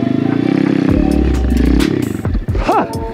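An Apollo pit bike's small engine revs hard during a wheelie attempt, a loud close roar that surges, drops and clatters, followed by rising and falling whines as the throttle is worked.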